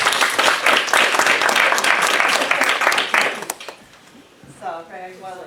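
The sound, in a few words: audience applause at council meeting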